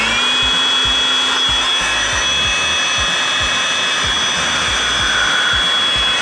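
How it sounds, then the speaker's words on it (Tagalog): An electric car-wash drying blower runs on a Bluetti AC200L portable solar power station, giving a loud, steady whirring roar with a high whine and a faint rhythmic thumping underneath, with no talk. "makikita nyo naman na gumagana itong ating blower"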